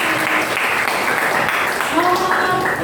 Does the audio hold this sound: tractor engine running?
no